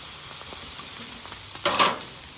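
Sausage, mushrooms and grease sizzle on a flat griddle, a steady broad hiss that swells into a louder crackling burst near the end, with no talking.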